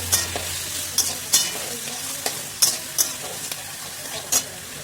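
Brinjal and flat beans are stir-fried with potato and carrot in a pan, with a loud continuous sizzle broken by repeated scraping strokes of the spatula in an uneven rhythm.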